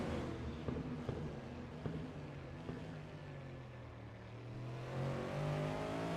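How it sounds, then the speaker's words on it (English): Race car engine in a racing video game at Interlagos, a steady loud drone with rising pitch as it accelerates and brief shift blips, heard alone. "That is an engine sound."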